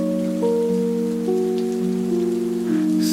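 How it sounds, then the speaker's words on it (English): Rain falls steadily on surfaces during a rainy day in Brazil, a continuous soft patter and hiss heard under sustained, held musical tones for the whole stretch. "Raindrops falling from the sky."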